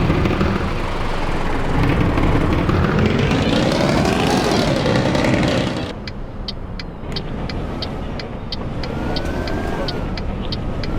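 A bus engine sound mod in Euro Truck Simulator 2 drones steadily, rising and falling in pitch as the engine revs, then settles into a lower idle with a faint rhythmic ticking.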